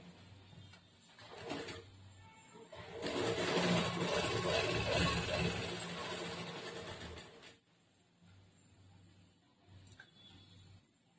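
A sewing machine stitches blouse fabric in a continuous whirring run of about four seconds, close and steady, bracketed by quieter handling noises and a few brief mechanical taps before and after.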